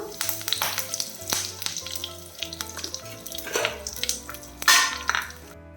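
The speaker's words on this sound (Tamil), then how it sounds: "கடுகு பொரியுது" Mustard seeds splutter and pop in hot oil with a close, crackling, irregular sizzle and sharp bursts of spitting, loud and uninterrupted by talk.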